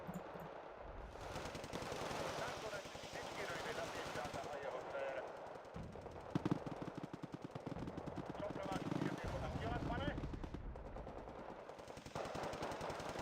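Rapid machine-gun bursts rattle almost without pause in a Wargame: Red Dragon battle, with heavier thuds now and then in a loud, dense combat soundscape.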